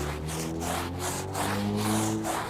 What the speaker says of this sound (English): I'll get my big blue Stiffy and I'll scrub out the tire